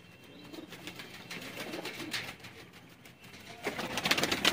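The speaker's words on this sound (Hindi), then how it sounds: "ये भी शेख साहब का कबूतर है, गोल्डन कसूरी कबूतर है।" Golden Kasuri pigeons calling, with faint cooing and rustling over low background noise that grows busier toward the end, no talking.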